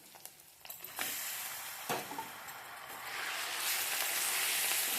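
Raw chicken pieces hitting hot oil in a pan for a simple chicken curry, a sharp hiss rising after a few stirring clatters and settling into a loud, steady sizzle.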